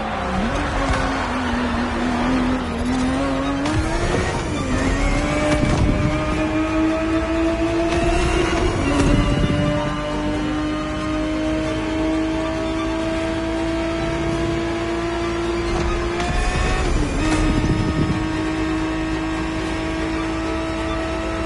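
A 1970s Ferrari 365 GTB4 races in The Crew Motorfest, its engine note climbing and dropping through several gear shifts. The sound is loud and continuous, with faint tire noise.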